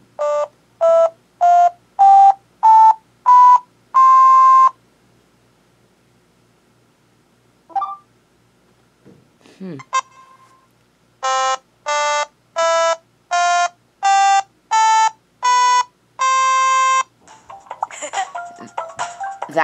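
Nintendo Labo Toy-Con cardboard piano fitted with a waveform card, playing a run of six evenly spaced rising electronic tones, a pause with small handling noises, then another quick series of bright synthetic notes, loud and close.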